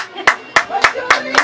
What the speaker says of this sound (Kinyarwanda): Amashyi menshi n'impundu, amashyi dushimire.